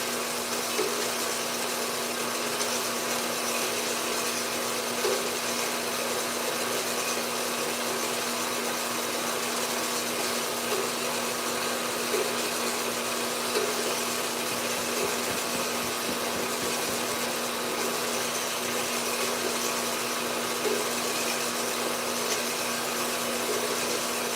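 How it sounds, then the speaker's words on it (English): Power tool cutting metal pipe for a pipe anvil, a steady loud whining grind with a constant hum held throughout, no talk over it. "When this one gets cut, we're gonna weld the upright."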